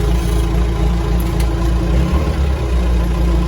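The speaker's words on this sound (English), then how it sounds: "and then you start the vehicle." A 1994 JCB 214 backhoe loader's diesel engine running steadily after starting, a loud, close, low rumbling idle that stays even throughout.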